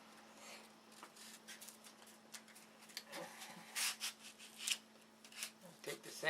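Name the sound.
sanding with sandpaper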